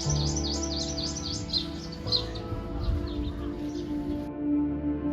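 Birds chirp in quick repeated phrases over a steady low hum and airy background in a Himalayan village in Kinnaur Valley, the song fading after the first few seconds.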